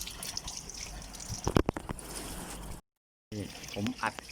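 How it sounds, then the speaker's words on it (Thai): Water from a hose flows through a car radiator during a coolant flush, with steady running and dripping alongside intermittent speech and a brief dropout to silence midway. "อย่างนี้แล้วนะเปิดไว้น้ำไหลมาเรื่อยๆเห็นไหม"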